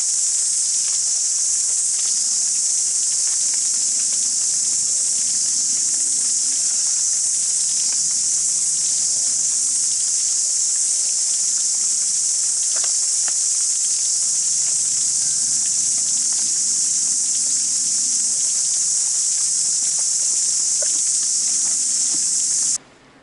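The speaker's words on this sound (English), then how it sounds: "You should be able to hear the pitter-patter of the raindrops on the prairie tree leaves above your head, but you'll also be able to hear the cicadas." Cicadas drone in a steady, loud, continuous buzz among prairie trees on a rainy day, with only faint scattered pattering of raindrops on the leaves underneath, ending abruptly.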